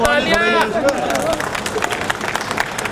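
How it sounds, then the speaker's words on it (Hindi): At a school retirement function, an audience claps steadily, a sharp dense rattle of many hands that runs throughout, while a voice speaks loudly over the start. "जोरदार ताली से स्वागत कीजिए सर का।"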